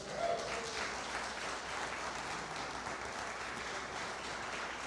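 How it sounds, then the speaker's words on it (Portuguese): Church congregation applauding during a sermon, a soft, distant wash of many hands clapping steadily without pause. "Alguém pode aplaudir Jesus?"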